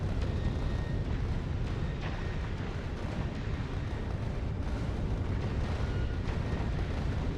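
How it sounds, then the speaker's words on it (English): Rocket turret fire and explosions in the Factorio Space Age video game form a dense, continuous barrage of booms and bursts, loud and unbroken throughout with no talking. "That's why we're seeing the shots, more rocket shots coming out."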